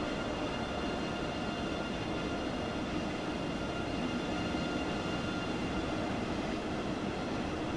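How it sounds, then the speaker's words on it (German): A simulated passenger train on the Kassel–Würzburg line pulling into a station in Train Sim World 3, a steady rumbling hum of wheels and motors that holds at an even level throughout, with no speech. "Zug ist angekommen."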